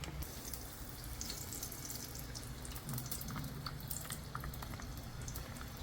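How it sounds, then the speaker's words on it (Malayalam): Coconut oil poured from a cut packet into a hot clay pan on a gas stove, making a steady, close, liquid trickle and hiss that runs unbroken for the whole stretch. "നമ്മൾ ഇതിനകത്തോട്ട് കുറച്ച് വെളിച്ചെണ്ണ ഒഴിച്ചു കൊടുക്കാം"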